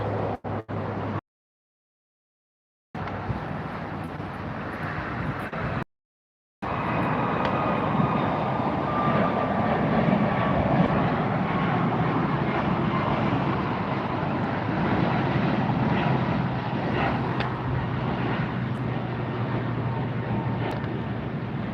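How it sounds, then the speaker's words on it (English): Jet engines of a Lufthansa Airbus A340 at Los Angeles International Airport, a steady broadband roar holding at a fairly loud level for most of the stretch, broken by two short silent gaps near the start. "So take a look at that Lufthansa A340 before it slips into a parking spot there."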